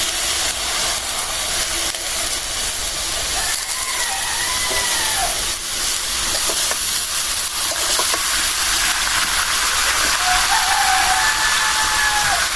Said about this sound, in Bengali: পেঁয়াজমরিচ ভেজে নিলাম এখন দিয়ে দিই ভাজি লাউ আর আলু